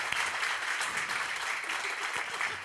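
An audience at a conference gives a warm round of applause after a speaker's introduction, dense steady clapping filling the room throughout with no voices on top.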